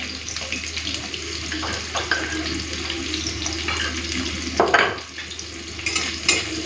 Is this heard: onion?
yes